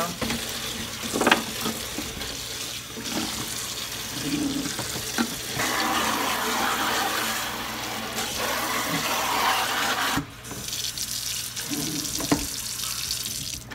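Water drains steadily through the six holes of a fodder seed tray: a continuous close hiss and trickle with a few brief splashes, no talking.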